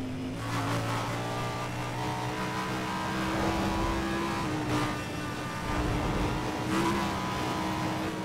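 In Need for Speed World, an Audi R8 LMS Ultra race car revs loud and close, the engine climbing and dropping through several gear changes with brief surges, no voices over it.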